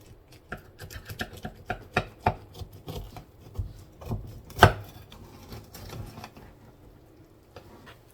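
A knife cutting into a baked, rested double-crust pot pie: a series of crisp crunching cuts through flaky pastry, with one louder crackle midway, then quieter crumbly cuts fading out.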